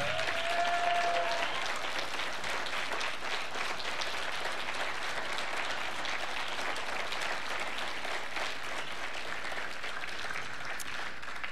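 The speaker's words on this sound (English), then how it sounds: "12th graders, please give them a huge round of applause." An awards-ceremony audience applauds scholarship donors with a long, even round of clapping that fills the hall at a steady level from start to finish.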